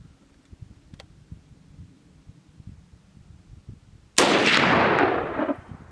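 A single loud rifle shot from a 111-year-old assault rifle cracks out near the end after quiet background rumble, its sharp blast decaying over about a second outdoors.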